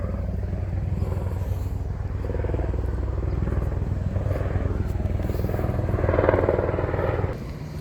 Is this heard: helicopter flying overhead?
yes